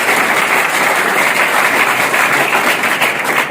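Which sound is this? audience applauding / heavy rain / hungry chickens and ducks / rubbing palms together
audience applauding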